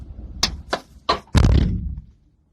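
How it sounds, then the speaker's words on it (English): A few light knocks and clicks, then a single heavy door slammed shut by the wind with a booming thud that rings out briefly before fading to quiet. "Damn wind to shut my door on me."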